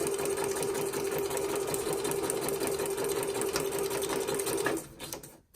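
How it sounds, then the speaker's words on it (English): A home sewing machine runs steadily with a close, even motor whir and needle clatter, stitching forward then reversing to lock the seam, before winding down and stopping near the end. "When you start sewing at the beginning, you're going to go a couple stitches, hit this backwards button, go backwards a couple to lock it"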